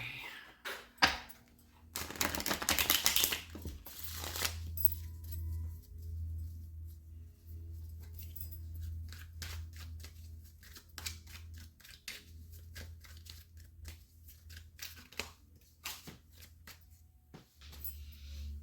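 Cards are riffled and shuffled with bursts of crisp fluttering and tapping close by, while a low hum sits underneath.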